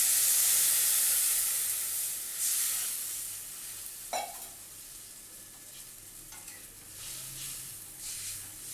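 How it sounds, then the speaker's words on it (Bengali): Hilsa fish pieces coated in salt and turmeric sizzle steadily as they are turned in a wok. A continuous bright hiss is heard up close with no talk, and a single sharp clack of the turner sounds partway through. "সামান্য খালি ওলট পালট করে একটু ভেজে নিই।"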